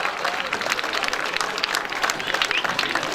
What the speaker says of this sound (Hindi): तालियों से आप खुशी का इज़हार कीजिएगा।